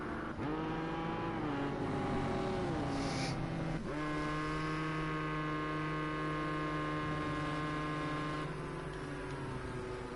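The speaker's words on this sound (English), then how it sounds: "the car sounds so weird being driven like this" A steady engine drone with strong sustained tones, shifting pitch around the four-second mark, then holding evenly; synthetic racing-game GTE car sound at Circuit de la Sarthe, no talking.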